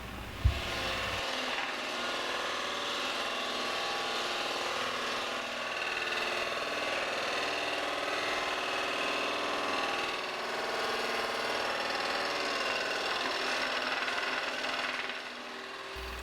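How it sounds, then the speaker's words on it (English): A scroll saw working through hard oak on inside cuts, a steady continuous buzzing drone with rasping texture, constant and close, running unbroken for most of the stretch before cutting off near the end. "I used a scroll saw to finish the inside cuts. It took a while with this hard oak,"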